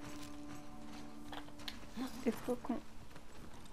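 A horse's hooves clip-clop in The Last of Us Part II, with a short run of soft hoofbeats in the second half under French speech and game ambience.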